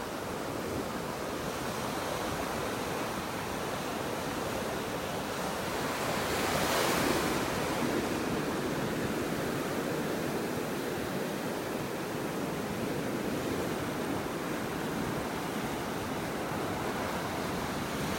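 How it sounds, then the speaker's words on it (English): Ocean waves break steadily on a beach in North Naples, Florida at high tide, a continuous close wash of surf with wind buffeting the microphone, cresting slightly louder around the middle and no talking. "hearing those waves breaking."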